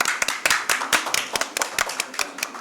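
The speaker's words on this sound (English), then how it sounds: "A big round of applause" An audience at a medical conference on thyroid cancer claps, sharp distinct claps in an uneven rhythm, close and fairly loud, with no talk over them.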